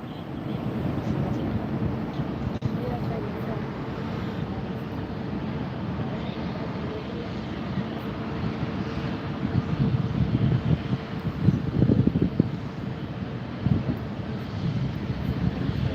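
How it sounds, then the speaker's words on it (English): Virgin Atlantic Airbus A380 airliner taxiing at LAX, a steady broadband jet rumble with wind buffeting, continuous and moderately distant, swelling slightly louder toward the end. "This is the Virgin Atlantic taxiing up."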